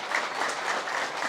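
A seminar audience claps together briefly, a short burst of dense, even applause from a crowd in a room.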